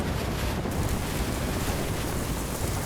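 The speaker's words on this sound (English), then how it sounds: "These waves are not good." Heavy ocean surf pounding during the Hurricane Matthew storm surge at high tide, a loud continuous roar of breaking waves with strong wind buffeting the microphone throughout.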